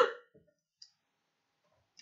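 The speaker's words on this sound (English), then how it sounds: "That's odd, I'm coughing." A single short cough bursts out close up at the start, followed by faint clicks and small mouth noises in otherwise near silence.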